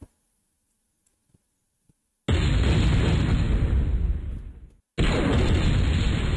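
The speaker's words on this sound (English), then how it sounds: "And then hit you with the air gun." An air gun attack in the MechQuest video game lets out a loud, sustained blast that fades out. After a short break, a second blast bursts in, following a mostly silent opening.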